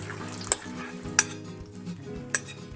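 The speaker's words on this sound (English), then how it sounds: "Yeah, so now I am going to dump this in" Spanish tortilla egg-and-potato mixture hitting hot oil in a pan, a steady close sizzle with three sharp metallic scrapes or taps of a utensil against the pan at even intervals.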